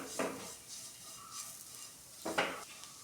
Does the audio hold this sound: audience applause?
no